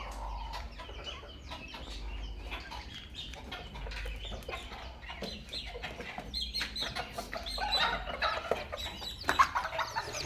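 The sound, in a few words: day-old ornamental chicken chicks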